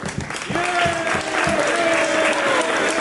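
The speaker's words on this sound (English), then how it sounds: "Let's give her a round of applause." Audience applause at a Westchester municipal officials' gathering, a dense steady wash of many hands clapping at moderate distance, with a faint voice speaking briefly near the start.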